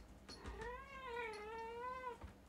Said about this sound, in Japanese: うちの猫がね